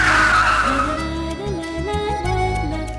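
A car brakes hard with a squeal of tires and a rumbling engine, then slows and idles as it pulls over, the sound close and fairly loud.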